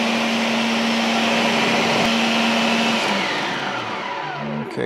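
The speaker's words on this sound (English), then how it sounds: "you can put your blender on high, and we're just gonna let it go for a few minutes" A blender runs on high speed pureeing roasted garlic cauliflower, a loud steady whir with a constant motor whine that softens slightly near the end as the mixture smooths out, with no talking.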